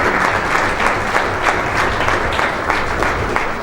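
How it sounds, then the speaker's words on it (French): An audience applauds two young organisers of a youth project at a public event, loud sustained clapping from many hands with individual claps standing out, filling the room without speech. "vous pouvez les applaudir, Alex et Gwen"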